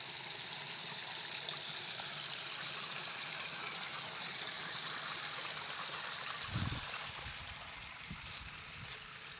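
Irrigation canal water flowing steadily beside farmland near a village, a continuous broad rushing wash with a brief low thump partway through, no voices.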